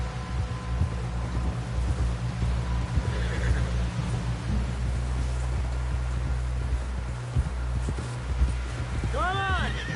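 A video-game horse gives a clear whinny near the end, over steady hoofbeats and a constant low background hum, with character voices talking throughout.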